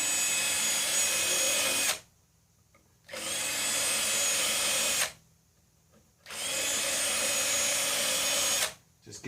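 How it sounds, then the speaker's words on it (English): A power drill fitted with a 1/8 inch bit bores shallow starter holes in three loud, steady bursts of about two seconds each, separated by short pauses, with no talking. "about 1/8 of an inch deep with this 1/8 inch drill bit"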